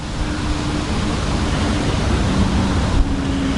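Strong west wind roars in a steady broadband rush by a Dnieper River bay in Kyiv, loud and continuous, buffeting close by, with no voices.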